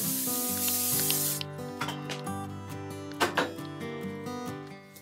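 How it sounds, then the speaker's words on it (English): Cooking spray hisses from an aerosol can into a crock pot in an RV kitchen, one steady burst over a background of music, followed by a few light knocks. "I'm going to spray my crock pot"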